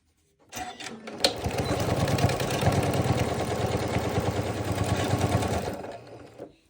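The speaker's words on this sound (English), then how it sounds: "I'm going to put this block on top of it and sew my 1/2 inch." A sewing machine runs steadily for about five seconds, stitching baby rag quilt blocks together with a half-inch seam. The close, rhythmic mechanical whirr stays loud and even, with no talking.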